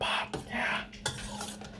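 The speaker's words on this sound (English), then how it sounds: "We're just stirring the pot." Soup being stirred in a pot in a home kitchen, with a few scraping, clinking strokes of a utensil against the pot over a short stretch, close and fairly quiet.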